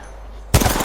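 A gun fires in the video game Apex Legends: near silence, then an abrupt, loud blast of gunfire close by that keeps sounding to the end.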